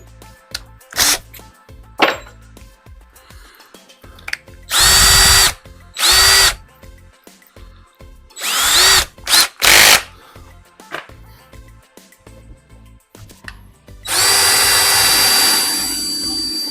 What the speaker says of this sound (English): I'm just going to drill the hole.